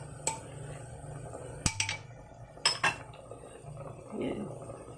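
A utensil clinks and scrapes against a cooking pot while Taiwanese food is stirred, a few sharp metallic knocks spaced apart over quiet background and soft rustling.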